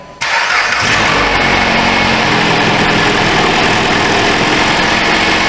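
After a brief quiet moment, a car engine with a cracked exhaust manifold cranks and catches, then settles into a steady, busy idle, loud and close.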